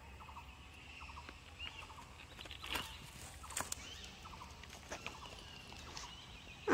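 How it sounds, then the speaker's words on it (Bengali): Birds call all around in a forest beside a railway line in North Bengal, faint repeated gobbling and chattering calls scattered over a quiet outdoor hush, with a few soft knocks and no speech. "চারপাশে পাখির আওয়াজ শোনা যাচ্ছে।"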